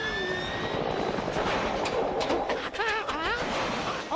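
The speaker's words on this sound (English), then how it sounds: "It's like a relatively small turbine helicopter to me" Cartoon helicopter called the Peter Copter from Family Guy, a small turbine-type craft, flying with a steady engine roar and whine, joined by chirpy, warbling tonal cartoon sound effects partway through.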